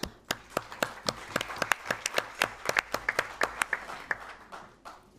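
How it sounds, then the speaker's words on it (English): Audience applauding a panel speaker at a Kenyan forum on private sector investment for NDC climate implementation, a modest, sparse round of distinct individual claps that stays fairly even, then thins out near the end. "So a big applause for Katarina."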